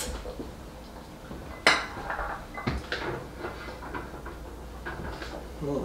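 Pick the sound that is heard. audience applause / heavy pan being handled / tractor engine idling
heavy pan being handled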